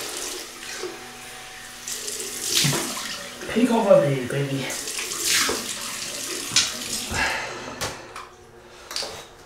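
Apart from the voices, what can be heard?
tap water running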